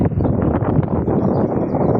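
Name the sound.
strong wind in a parking area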